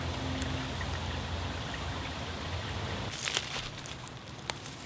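Creek water rushes steadily close by at a spot near a tunnel, a dense, even wash with scattered splashes and drips over the last couple of seconds.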